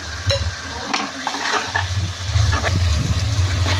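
Spices sizzling and frying in hot oil in a pan for an egg and prawn curry, with a steady loud crackle and occasional stirring scrapes throughout.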